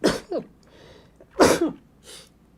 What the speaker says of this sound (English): So what I'm gonna do is sneeze